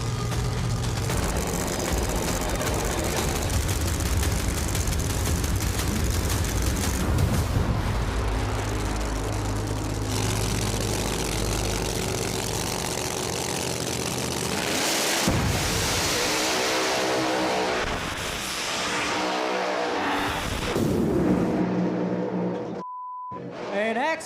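Drag race launch between the Game Changer Mustang and a Regal in a no-prep street outlaw race: loud, sustained engine roar and revving throughout, surging and fading, with a brief cut near the end.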